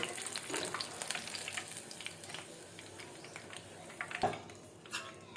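Soya chunks (meal maker) frying in oil crackle with a busy, moderate sizzle, broken by a few light stirring clinks and scrapes close by.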